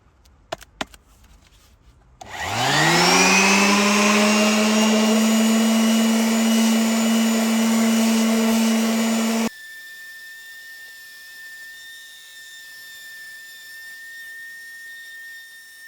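An Erbauer orbital sander fitted with a coarse P60 disc sanding paint off. It starts after a few seconds of quiet, runs as a loud, steady high whine for about seven seconds, then cuts to a fainter lingering hum.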